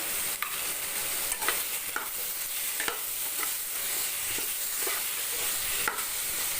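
Shredded cabbage stir-fried in a pan for chutney, with a continuous close sizzle and regular scraping clicks of a spatula stirring.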